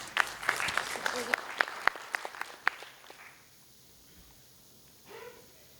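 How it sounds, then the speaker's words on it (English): Applause for a speaker at a university budget discussion seminar, sharp claps fading out after about three seconds, followed by quiet. "May I have a big round of applause for Mr. Shripal."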